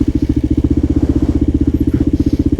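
Kawasaki KLR650 single-cylinder motorcycle riding through slush, its engine thumping in a fast, even pulsing rhythm, loud and close, with faint splashing over the top.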